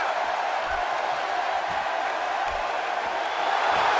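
Arena crowd noise from the WWE 2K18 video game during a Smackdown women's battle royal, a steady, fairly loud wash of cheering with faint whoops throughout.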